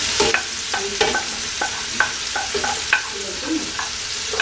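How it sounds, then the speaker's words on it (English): Onions and shallots sauté in vegan butter over medium-low heat, stirred with regular scraping strokes of a utensil over a close, continuous sizzle. "I'm gonna stir it combine. I'm gonna cook this down for about a minute or 2 for the onions and shallots to soften up."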